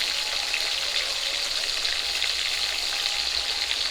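Japanese puti fish fry in a pan with a steady, even hiss of sizzling oil, loud and close and without any pause.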